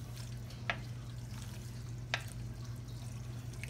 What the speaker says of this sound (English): So anyway, let's get this here stirred up. Get it all stirred up there pretty good.